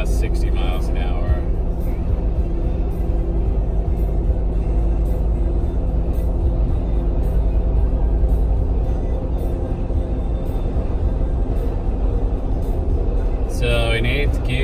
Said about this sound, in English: Yeah, that's 8th gear right there, doing about 60 miles an hour.